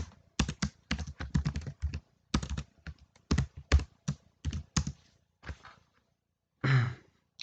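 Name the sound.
typing on a computer keyboard, pressing enter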